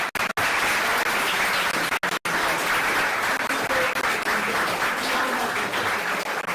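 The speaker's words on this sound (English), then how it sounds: "Round of applause for our panel." Audience applause for a panel at a blockchain and crypto industry event: a loud, dense wash of clapping from a crowd that stays steady for several seconds, broken by a couple of brief cuts near the start.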